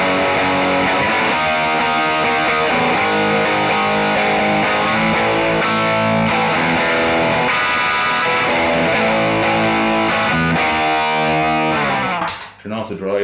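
An overdriven electric guitar runs through an HX Effects unit and a Boss OD200 drive, sounding loud and sustained with thick distorted chords that cut off abruptly near the end.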